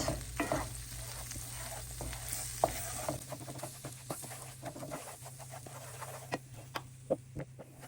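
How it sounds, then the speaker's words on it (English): Flour browning in a pan over medium heat while being stirred constantly, a soft close sizzle broken by repeated scraping strokes of the spoon, with no voices. "we have to continue to mix this because this will burn pretty fast"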